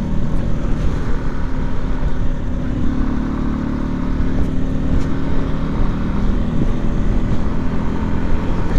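A Honda Lander 250 motorcycle accelerating, its engine a loud, continuous drone throughout with no talking over it.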